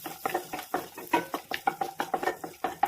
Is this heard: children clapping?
no